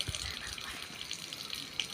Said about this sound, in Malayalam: ഞാൻ ഗൈസ് വെള്ളം ഒഴിക്കുകയാണ്